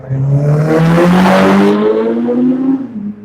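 A speeding street bike roars past on a road, its engine note climbing loudly and close, then fading quickly as it goes by.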